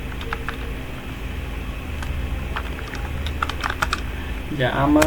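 Bangla text being typed on a computer keyboard with Bijoy Bayanno, a run of quick, irregular key clicks close by over a faint steady hum, with a voice rising briefly at the end.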